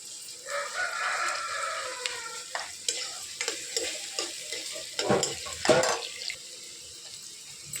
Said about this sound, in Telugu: బ్రౌన్ కలర్లో వచ్చేటాక ఫ్రై చేసుకుందాము.